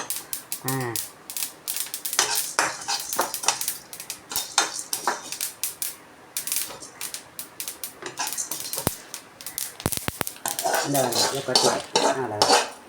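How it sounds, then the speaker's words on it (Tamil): Idli podi ingredients crackle and pop loudly in a hot iron pan, with clattering utensils and scraping throughout. "பொரிய சத்தம் கேட்குதுங்களா"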